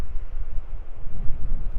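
Wind gusting across an exposed desert ridge above Ridge Crest on the Pacific Crest Trail, a steady low rumble buffeting the microphone in uneven surges, loud and close with no one speaking.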